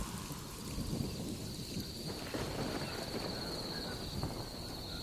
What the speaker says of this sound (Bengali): অবশেষে বৃষ্টিটা ধীরে ধীরে কমতে কমতে একেবারেই থেমে গেছে